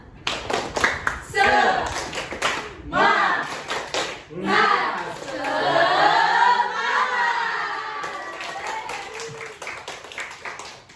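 A school class claps in a rhythmic spirit-clap pattern of quick bursts with pauses, mixed with voices chanting and speaking along.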